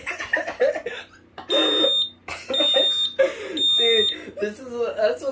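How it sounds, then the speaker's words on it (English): Smoke alarm from a collection sounding in loud, repeated high-pitched beeps that start and stop, heard close up while people talk over and between the bursts. "This is a really good alarm to have for a collection"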